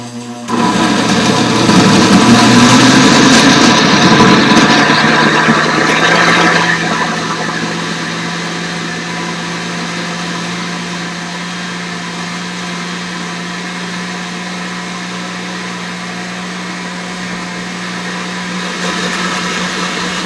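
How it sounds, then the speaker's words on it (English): A countertop blender whirs loudly through green smoothie ingredients, high and strained at first, then settling into a steadier, lower whine that runs on for nearly twenty seconds with no one talking. "So I'm going to blend this."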